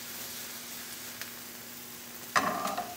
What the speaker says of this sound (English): That way I'm not frying the onions, I'm slowly cooking them.